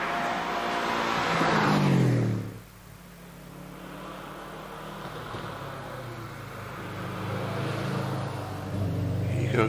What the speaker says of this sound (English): Phil Fisher in his Subaru Impreza WRX 2-litre machine is on the hill.